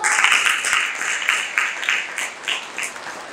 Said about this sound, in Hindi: आगे की पंक्तियों पर आपकी तालियां चाहूँगा